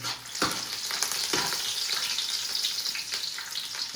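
Garlic and ginger fry in a pan for fried rice, a steady close hiss broken by a few brief scraping bursts from stirring, with no voices.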